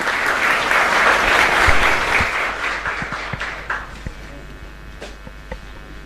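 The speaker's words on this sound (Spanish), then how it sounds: "Fuerte aplauso para el Señor" Congregation applauding in a chapel during a Catholic Mass for Santa Librada, a loud sustained burst that gradually thins into scattered claps and fades.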